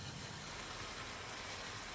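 A Hatton's SECR P Class model tank engine runs on a model railway track, giving a continuous, even whirring rumble of motor and wheels at close range, with no voices.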